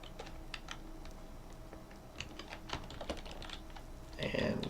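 Scattered keyboard typing clicks at moderate distance over low room hum, irregular bursts of keystrokes with a slightly louder clatter near the end.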